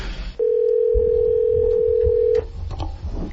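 A telephone line tone on a call plays as one long, steady, loud tone for about two seconds, followed by faint line noise.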